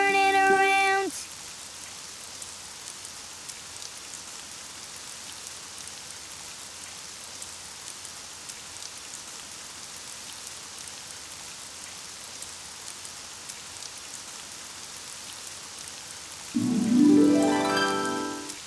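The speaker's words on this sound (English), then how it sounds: "Oh, it's raining outside." Steady rain falls outside, a soft even wash that runs almost the whole time, with brief musical tones at the start and end.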